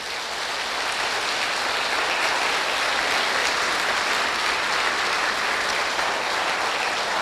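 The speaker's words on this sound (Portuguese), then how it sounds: "Queridos, vamos aplaudir o Senhor Jesus nessa noite." A church congregation at a Sunday family service claps together in a dense, steady roar of applause that holds evenly loud throughout, with no voices standing out.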